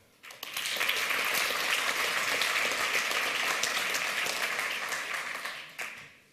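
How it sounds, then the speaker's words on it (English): Conference audience at the 28C3 Chaos Computer Congress giving the organizers a big round of applause, a dense, sustained wash of clapping that swells quickly, holds steady for several seconds, then tapers off near the end. "I will actually ask you to give a big clap to the organizers"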